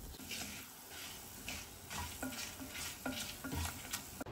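Coriander seeds, cumin and three to four dried chillies roast in oil in a pan for a traditional vegetable curry, with soft sizzling and repeated stirring scrapes close by.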